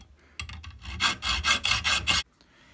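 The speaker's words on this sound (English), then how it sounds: "let's go ahead and cut a piece off of this lead" A hacksaw cuts through a piece of soft lead with about eight quick rasping back-and-forth strokes, close and fairly loud, then stops abruptly.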